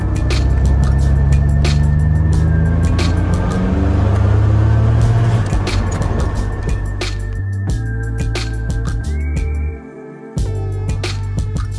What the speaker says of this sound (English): when you plant it, RPMs build, there goes the turbo